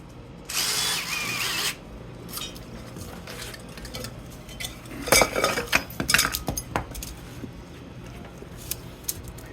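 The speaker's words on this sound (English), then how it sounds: "I'm gonna just take these 4 bolts loose and get this motor up out of here" Refrigerator compressor being taken apart for copper scrap: a loud power-tool burst loosens a bolt, followed by clattering metal knocks and scraping as the motor is worked free, close and without speech.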